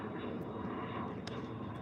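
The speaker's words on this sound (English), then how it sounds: "Airplane." A fixed-wing airplane drones overhead, a steady faint engine rumble heard throughout with no other sounds on top.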